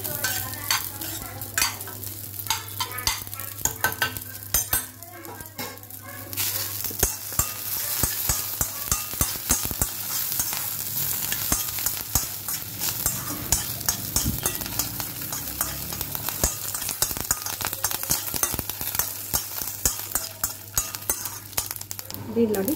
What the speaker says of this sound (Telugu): తర్వాత కంద ఫ్రై అవుతూ ఉంది.